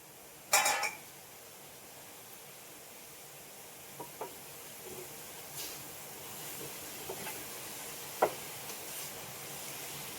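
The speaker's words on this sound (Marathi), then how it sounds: "चांगली जरा परतून घ्यायची" Chopped vine leaves being sautéed in a pan at home, a soft continuous sizzle with a sharp metallic clatter near the start and a few light scraping knocks of a spatula later on, close and with no one talking.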